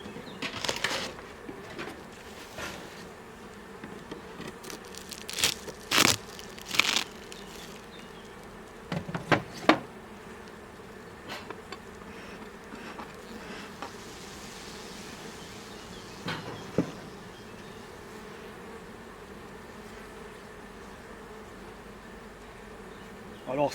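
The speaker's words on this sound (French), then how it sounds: "c'est un essaim que j'ai récupéré au mois de mai. C'est un essaim naturel qui s'était posé sur une branche." A strong natural honeybee swarm, caught from a branch in May, buzzing steadily in an opened hive, a dense continuous drone with bees darting past close by and occasional louder flyby bursts.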